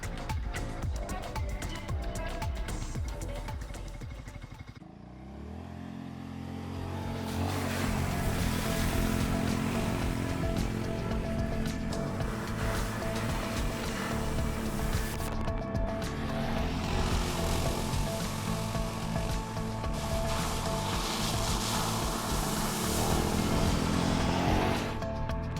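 A Segway Snarler quad ATV drives off-road with diff locks engaged, giving a loud, continuous roar of engine and wind noise that dips briefly and then surges again, with a voice talking over it.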